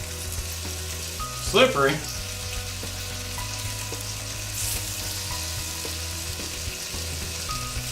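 Burgers cook on a George Foreman 15-serving indoor/outdoor electric grill, giving a steady low sizzle with a brief scraping sound early on and a faint word spoken nearby.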